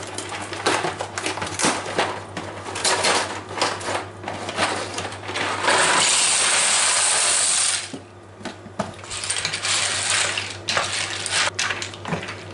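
Dry pasta rattles and hisses as it pours into a pot for a green pasta bake with broccoli and minced meat, a steady burst lasting a few seconds over a constant low kitchen hum.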